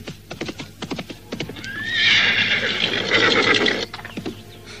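A wild horse neighs loudly in a long, rising whinny lasting about two seconds, preceded and followed by clip-clop hoof beats, in an outdoor scene from an Indonesian period drama.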